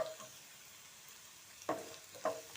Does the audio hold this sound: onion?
yes